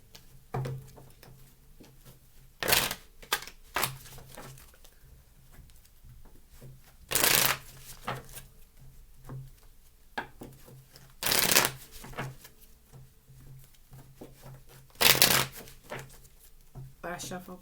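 Tarot cards being shuffled in soft quiet riffles, punctuated by four louder, sharper bursts of shuffling at regular intervals.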